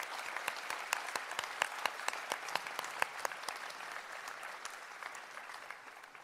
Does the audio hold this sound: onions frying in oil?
no